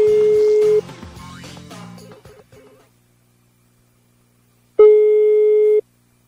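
A telephone line after a dropped call gives a steady electronic tone at the start, then a muffled stretch of line noise and silence, and later a single loud beep of the same pitch lasting about a second, with no talking.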